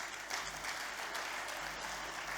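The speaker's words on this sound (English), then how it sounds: "Let's give him another round of applause." An audience at a book launch applauds, with steady, dense clapping throughout and fairly faint, roomy sound.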